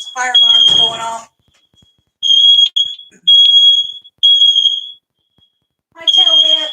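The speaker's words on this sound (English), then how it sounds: "Fire alarm's going off." Loud repeated high-pitched beeps from a home smoke alarm set off by cooking, sounding in separate bursts with someone speaking before and after them.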